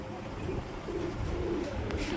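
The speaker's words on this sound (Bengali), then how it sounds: "ফুললি রানিং আর ডাকের কবুতর এগুলো" Pigeons kept for sale, including a pair of Rajshahi Giribaz birds, coo in soft, low repeated calls close by, faint against a steady background murmur with no speech.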